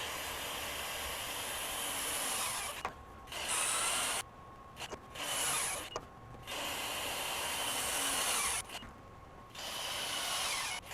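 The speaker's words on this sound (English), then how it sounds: "We're going to start torquing these larger fasteners at 800 foot-pounds." A Metabo SSW 18 LTX 800 BL cordless mid-torque 1/2-inch impact wrench drives large fasteners with a larger socket, loud sustained hammering bursts of several seconds separated by short pauses.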